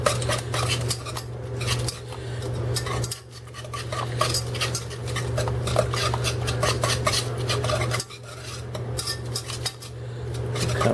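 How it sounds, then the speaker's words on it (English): Eggs are whisked hard in a bowl for a mushroom omelette, a fast, steady clatter of metal tines against the dish with two brief pauses, close and loud, no voices. "you want to take your whisk and you want to scramble these in real,"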